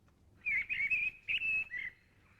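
A thrush sings clear, whistled phrases in short bursts, fluty and bright, with brief pauses between, heard outdoors against a quiet background.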